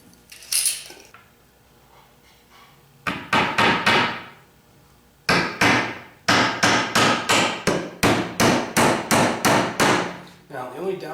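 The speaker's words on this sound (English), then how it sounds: "when you're hammering it in, be gentle" Hammer driving nails into pallet wood pieces: bursts of loud, ringing strikes in steady rhythmic runs, a few blows, then longer series of regular hits with short pauses between.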